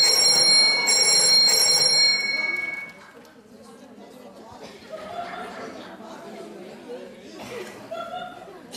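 Mobile phone ringing among a television studio audience, a bright repeating electronic ring for about two seconds, followed by audience chatter and laughter.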